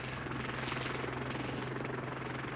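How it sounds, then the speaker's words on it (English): A Westland Lynx helicopter with two turboshafts driving a semi-rigid main rotor flies past, a steady, loud rotor and turbine roar filling the whole stretch with a low throbbing hum. "The Westland Lynx is undoubtedly the best helicopter yet developed in the UK"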